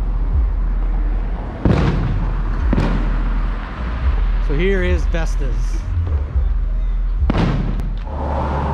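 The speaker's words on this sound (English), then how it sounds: "the fireworks are going off for the 4th of July" Fourth of July fireworks bursting outside an Italian family restaurant, a few scattered booms under someone talking close by.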